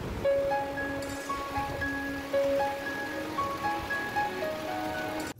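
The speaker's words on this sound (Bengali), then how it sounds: "পুরো ঘোলাটে অন্ধকার আর মুষলধারে বৃষ্টি পড়ছে।" A heavy downpour falls from a dark sky as a steady, moderately loud wash of rain, with thin tonal notes drifting above it.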